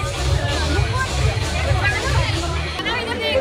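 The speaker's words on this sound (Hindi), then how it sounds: "यहाँ पे आते ही देखना इतनी भीड़।" Dense wedding crowd chatter, a steady hubbub of many overlapping voices close around, with low rumbling music or noise underneath and no single voice standing out.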